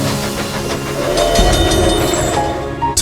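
A steam locomotive chuffs along railway tracks in a brief, continuous rumble of rhythmic puffing and rolling noise, fairly loud and close.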